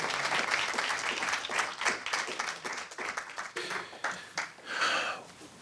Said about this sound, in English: please give our panelists another round of applause